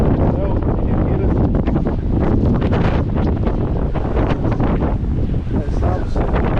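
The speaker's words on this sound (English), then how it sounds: "it's a tad windy as well. You can hear it." Strong wind roars steadily at sea beside a ferry near Belfast, a constant buffeting rush across the microphone throughout.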